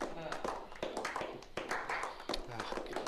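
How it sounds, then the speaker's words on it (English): Several people clapping in a movie's closing credits, a scattered rhythm of claps and taps that rises and falls, heard under talking voices. "You put the clapping people in the damn movie."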